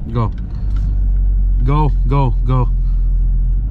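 A Chevrolet Camaro SS 1LE with a 6-speed manual gives a deep, steady engine rumble from inside the car while driving, with short bursts of talk over it.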